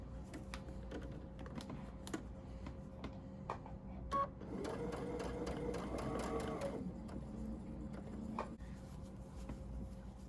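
A sewing machine back stitches at the start of a seam on a face mask, a low steady mechanical whir running through the middle of the stretch amid quiet room noise and faint tapping.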